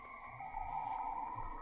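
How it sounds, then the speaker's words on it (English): A recorded sound of Saturn's rings comes through as a short, eerie tonal drone with steady whistling bands and a faint low rumble underneath. It is quiet and heard alone. "That's the sound of Saturn's rings."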